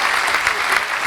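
An audience at a Talkaoke talk show in Aberfeldy claps in a dense, lively burst of applause that lasts about a second, with no talking over it.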